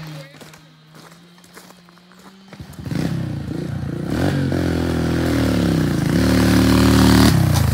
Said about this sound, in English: That's what a bike should sound like.